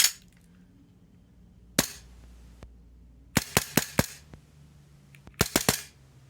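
A Tokyo Marui Glock airsoft pistol fires on a CO2 magazine with sharp, snappy cracks: a lone shot, then a fast string of four, then another quick burst of four, crisp and close in a quiet room.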